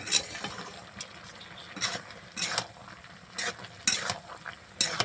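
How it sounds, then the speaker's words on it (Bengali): Mutton curry stirred in a pan, a series of loud, close scraping strokes of a spoon against the metal at an uneven rhythm over a low background sizzle. "ঢেলে দিই সুন্দর করে লাড়বো।"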